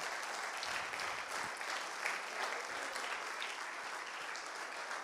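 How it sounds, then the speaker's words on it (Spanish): A church congregation claps in a steady, even, moderately loud wash of applause during a sermon, with no voices standing out. "Dale un aplauso de gratitud al Señor."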